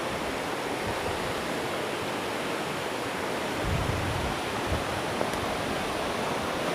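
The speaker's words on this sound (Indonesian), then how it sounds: "Inilah sungai yang perlu diseberangi." A flooded river running high after near-daily floods: a steady, dense rush of flowing water, loud and continuous, with a few low splashes and no voices.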